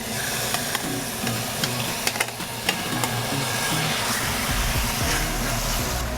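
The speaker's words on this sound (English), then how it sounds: "we're going to put our beef right into it" Beef sears in shimmering hot olive oil in a pan, a dense, constant sizzle and crackle with occasional sharp pops and a brief stir near the end.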